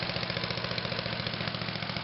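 Small gas engine of a leaf shredder idling after a choked start, warming up in a fall yard cleanup: a steady, close, even mid-pitched putter with a fast regular pulse and no voices.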